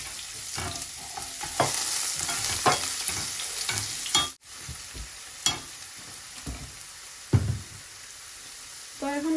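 Garlic and vegetables fry in a pan with a steady sizzle, punctuated by distinct spatula strokes and scrapes every second or so. One brief dropout interrupts the hiss midway.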